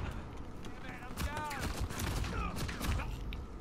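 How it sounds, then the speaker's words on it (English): Grenade blast in the Uncharted 4 shooter, mixed into a dense run of rapid gunfire bursts and impacts that continue throughout, loud and busy, with a person talking faintly underneath. "Oh my god, that was a perfect grenade"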